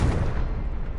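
A Confringo blasting spell explodes in the Hogwarts Legacy video game, a loud, dense boom that fills the whole moment with heavy low rumble and no voices.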